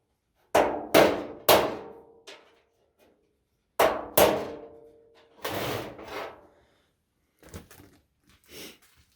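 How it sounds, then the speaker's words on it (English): A small hammer tapping a car hood part: a series of sharp metallic knocks, several quick ones in pairs, then a pause and more taps, close and alone in a quiet space. "I'm gonna put that in there and just take a little hammer and"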